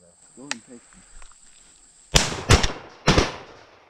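Three loud, sharp shotgun blasts ring out in quick succession during a public-land dove hunt, following a brief stretch of quiet voices and a thin, steady insect-like whine.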